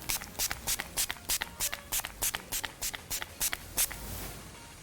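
About a dozen quick, crisp bursts of makeup setting spray in an even rhythm, each a short hiss from a pump bottle, close by and fairly quiet.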